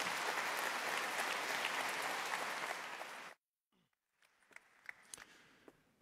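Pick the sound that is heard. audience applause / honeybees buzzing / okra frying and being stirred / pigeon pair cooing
audience applause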